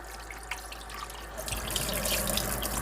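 Steady running water from a tap rinsing a processed quail, splashing into a sink and growing slightly louder partway through, with no talking.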